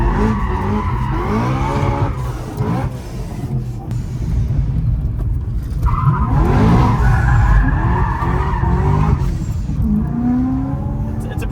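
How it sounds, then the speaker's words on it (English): A tuned 750 hp BMW E90 M3 swings around in first gear on engine braking in the mountains, its engine roaring and tires skidding and squealing continuously and loudly, with voices talking over it. "First gear, clutch out. So you're basically using the engine brake to swing the car around"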